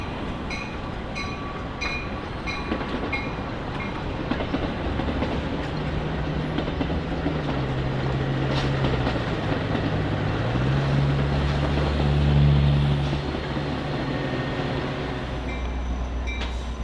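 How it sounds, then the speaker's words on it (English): A Metra commuter train on the BNSF line rolls inbound around a curve near Canal Street toward Union Station, a long steady rumble with rhythmic wheel clicks early on and a wheel squeal rising and falling in the middle. "a few train sets remain running passengers, including this late rush inbound, rolling around Canal Street"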